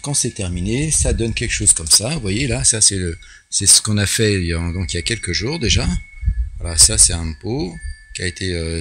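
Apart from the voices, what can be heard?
No everyday noise stands out behind the speech.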